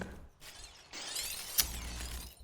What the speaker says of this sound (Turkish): Kanka camı kırsana.